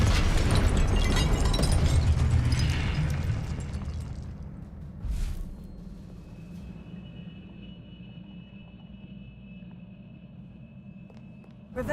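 The Incendio fire spell is cast in the video game Hogwarts Legacy: a loud roaring, crackling burst that holds for about four seconds, then trails off into a low hum with one brief swoosh partway through.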